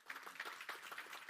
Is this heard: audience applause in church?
yes